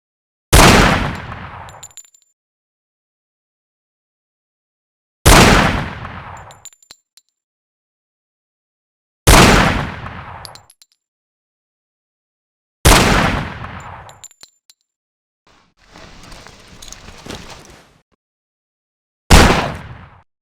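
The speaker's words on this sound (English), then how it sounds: "Pick one and let's see how you do on the firing range. I want you to shoot the wooden targets." Gunfire at wooden targets on a firing range in the Hidden & Dangerous 2 video game: five loud, separate shots spaced a few seconds apart, each ringing out and decaying, with a brief metallic rattle between the fourth and fifth.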